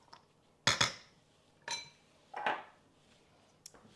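A teaspoon is picked out from cutlery in a home kitchen while dog food is being made from scratch: three separate metallic clinks and rattles, close and fairly quiet, with a tiny tap at the end.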